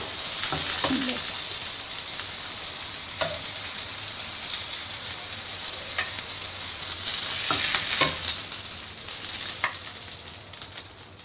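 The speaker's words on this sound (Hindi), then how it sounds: "और बाकी के भी इसी तरह से हम फ्राई कर लेते हैं" Beef chapli kebabs frying in oil, with a steady close sizzle and crackle throughout, broken by occasional clicks and scrapes of a utensil against the pan.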